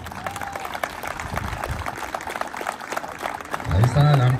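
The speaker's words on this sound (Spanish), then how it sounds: "También el aplauso para nuestro presidente municipal, contador público, José Manuel Valenzuela Salcido" Crowd applause for a municipal president at an outdoor community ballgame, a loose patter of clapping running under an announcer's amplified voice, with a louder swell near the end.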